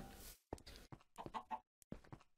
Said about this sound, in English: let's round up some chickens